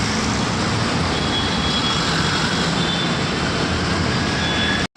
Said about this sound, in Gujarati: બેંગ્લોરમાં ટ્રાફિક